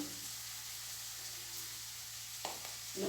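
Chicken curry being stirred in a pan after chilli and coriander powder go in, a steady soft sizzle with a few spoon scrapes near the end, close and continuous, no talking.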